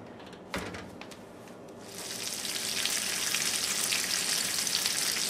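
Bacon frying in a pan, a soft sizzle after a sharp clack that swells into a loud, steady crackling hiss, close and alone.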